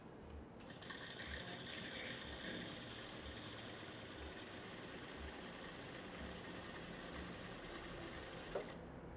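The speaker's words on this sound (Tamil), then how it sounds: "இப்போ நான் தைக்கிறது வந்து ஓரத்தையல்." Sewing machine running steadily while edge stitching along the fold of folded fabric, a continuous close mechanical whir with a fast even needle rhythm that carries on without pause and cuts off near the end.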